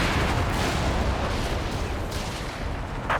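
A grenade explodes in the Company of Heroes 3 strategy game during a 2v2 match, a dense, rumbling blast of battlefield noise with continuous booms and crackle filling the whole stretch, no voices.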